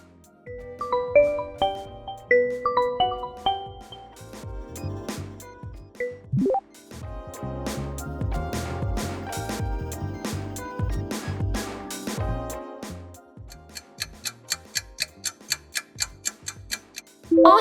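An Oppo smartphone ringtone plays alone: a bright melodic chime phrase, then dense rhythmic plucked notes, ending in a fast run of quick tinkling ticks, clear and close.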